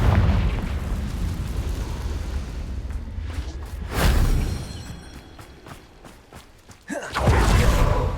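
Spell blasts from the Bombarda and Confringo curses in Hogwarts Legacy go off as loud booming bursts, one near the middle and a heavier one near the end, over a rumbling game soundscape with no talk.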